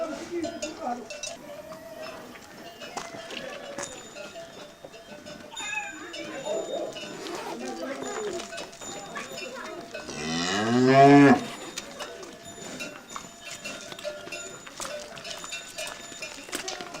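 A herd of cows passes along a street, with a loud low moo rising near the middle, scattered clanking like cowbells and hoof clatter, and people talking over the animals.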